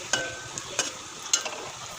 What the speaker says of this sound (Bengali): দেখো আমাদের লাল লাল করে ভাজা হয়ে গেছে